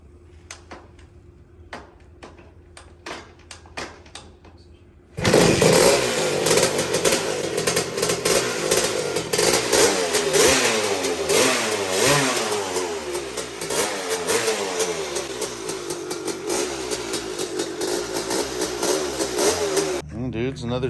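A Honda TRX250R ATV engine fires after a series of pull-start attempts and runs loud and close, revving up and down repeatedly, with people talking at times.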